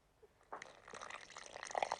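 Water poured from a cup into a bowl of tart dough mix with olive oil and salt, a soft steady liquid trickle that starts after a brief pause and builds slightly, close by and fairly quiet.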